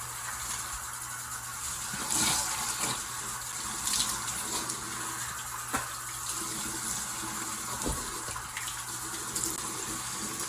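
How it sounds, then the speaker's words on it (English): Tap water runs steadily into a sink while face foam is rinsed off, with close splashes and gushes rising and falling over the continuous flow. "Alright, I'm washing this off."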